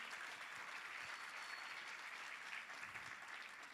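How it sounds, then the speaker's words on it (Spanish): A church congregation applauds loudly in sustained, dense clapping that fills the whole moment without any talk. "Dale fuerte ese aplauso al Señor."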